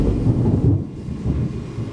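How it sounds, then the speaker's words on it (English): Thunder rolls through a storm as a low, continuous rumble that swells and fades over a couple of seconds, heard from a distance with no voices. "I tried to turn the camera on to hear the thunder"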